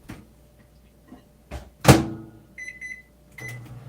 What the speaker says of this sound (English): Let me put it in the microwave for a second to show you.